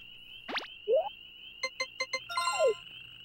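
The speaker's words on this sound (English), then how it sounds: "I just hear frog noises." Frogs croak in the Harvest Moon 64 video game, heard as a few short synthetic chirps and boings, including a quick rapid run of blips, faint and alone over a steady electronic tone.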